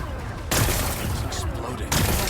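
A heavy blast booms as rocks are blown apart in Horizon Forbidden West, two sudden roaring bursts of loud, broad rumble and crackle close by, with no voices.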